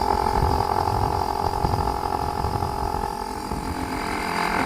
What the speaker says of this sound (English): I hit 2 bar right now on the air compressor